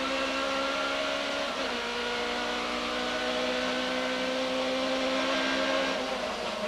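1991 British Touring Car Championship cars, including Ford, Toyota and BMW entries, racing at Silverstone, their engines a steady, loud droning whine with layered harmonic tones as the pack passes together.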